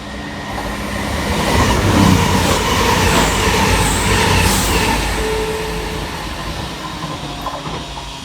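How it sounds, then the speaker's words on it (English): CrossCountry Class 221 unit 221129, running from Plymouth to Edinburgh Waverley, passes through Barnt Green station with a steady loud rumble of wheels and engine that swells to a peak midway, then slowly fades as it goes. "here comes 221129, working 1 Sierra 39 for cross country from Plymouth through to Edinburgh Waverley"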